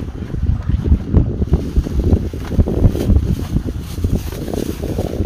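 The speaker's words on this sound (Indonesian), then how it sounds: "Anginnya mulai kenceng." Strong gusting wind buffets a fishing boat at sea off Ujung Kulon, a loud, continuous roaring rumble with water wash and microphone buffeting, no voices.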